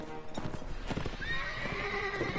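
Horse hooves clip-clop in a steady, close gallop in the video game Mount & Blade: Warband, loud over battle noise, with a rising whinny-like tone toward the end.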